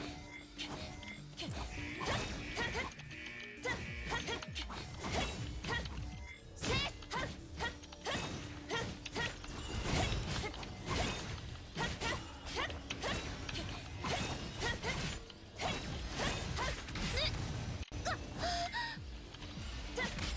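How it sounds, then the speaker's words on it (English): Machinery in Honkai Impact 3rd runs by itself, with continuous clanking, grinding mechanisms and sharp metallic crashes repeating at a steady pace for the whole stretch. "Machines are running on their own."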